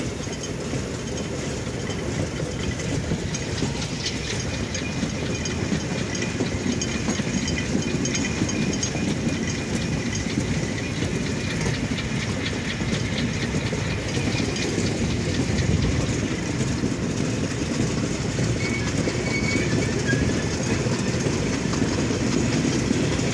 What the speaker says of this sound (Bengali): আবারও সঠিক সময়ে ট্রেনের স্পিড বাড়ানো হলো।